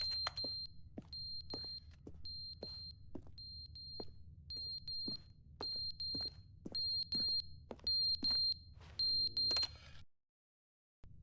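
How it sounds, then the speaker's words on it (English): Repeated electronic beeping from a fire alarm in The Stanley Parable: Ultra Deluxe, evenly spaced high tones with clicks over a low hum, cutting to silence near the end. "That's like a fire alarm, right?"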